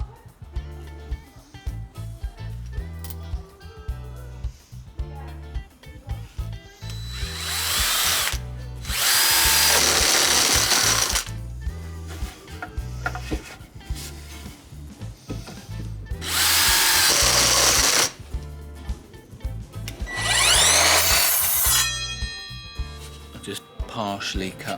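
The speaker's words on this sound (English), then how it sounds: "I'll drill out here and here just to get a nice curved edge." A power drill with a 25mm bit whines loudly in three long bursts, grinding through wood, with a rhythmic thumping beat underneath between the runs.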